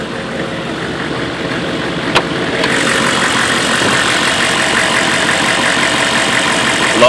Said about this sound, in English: Love that diesel sound.